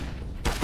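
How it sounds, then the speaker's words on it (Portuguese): Gunfire in an esports shooter match, a rapid burst of shots bursting in near the end after a quieter rumbling lead-in, loud and close. "o bicho começou a atirar e não parou"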